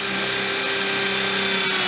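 Power drill boring a hole for a ground-mounted solar panel clip, with a depth stop on the bit: a steady, loud, continuous whirring drone held throughout, close up and with no talking.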